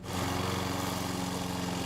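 A lawn mower engine runs steadily and close by while cutting grass on a hilly cemetery, its droning hum holding even for the whole stretch with no voices.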